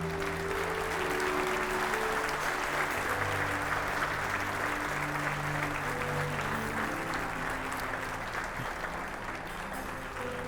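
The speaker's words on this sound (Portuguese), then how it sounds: "Você pode dar ao Senhor mais um forte aplauso." A church congregation applauds after a sermon, a sustained, dense clapping that fills the room for about ten seconds without a break and fades only slightly toward the end.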